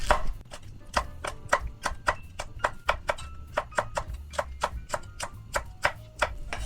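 Red chili being chopped finely with a knife on a cutting board: a steady run of crisp, close knife strikes, roughly three per second, with no voices.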